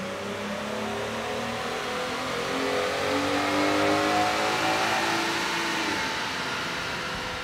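A Jeep Wrangler JL's 3.6-liter V6 on a chassis dyno, revving in one steady wide-open pull that rises smoothly in pitch, loud and close, then cuts off near the end as the throttle lifts.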